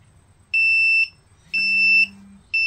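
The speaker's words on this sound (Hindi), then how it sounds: "बजर में अलर्ट किया" An Arduino forest-fire detection project's buzzer alarm sounds a series of shrill electronic beeps, each about half a second long with short gaps between them, clear and close with no talk.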